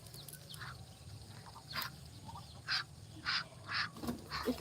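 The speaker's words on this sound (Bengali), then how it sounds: "আমাদের হাঁস না ও পাশের বাড়ির হাঁস" Several short duck quacks sound at moderate distance, spaced irregularly over quiet outdoor background.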